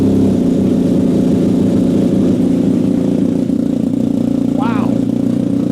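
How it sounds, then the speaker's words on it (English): A BMW 1250 motorcycle with a titanium header, Arrow silencer and the exhaust flapper removed idles with a steady, loud, low rumble that runs unbroken throughout, with a brief high chirp near the end. "Last thing to do is fire it up and see how it sounds."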